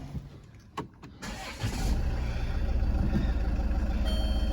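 A Land Rover Freelander 2 with an EGR valve fault and engine warning lights cranks briefly, fires up and settles into a close, steady idle.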